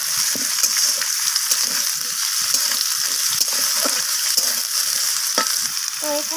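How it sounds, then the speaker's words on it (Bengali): Potato and pumpkin pieces fry together in a pan, giving a constant near sizzle with frequent light stirring scrapes and small pops, no talking. "তো আলু আর কুমড়ো দুটোকেই আমি ভাজা করে নিচ্ছি।"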